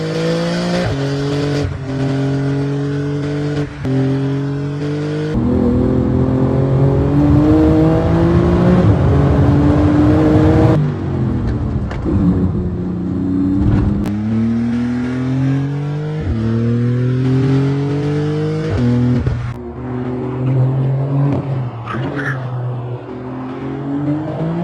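A Porsche GT2 RS in a Need for Speed game accelerates hard and loud, its engine note climbing repeatedly through a string of gear changes, with tire squeal and no talking.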